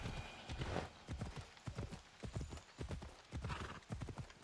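Steady clip-clop of horse hooves in the video game Assassin's Creed Odyssey, a brisk even rhythm of close, fairly loud footfalls going on without pause.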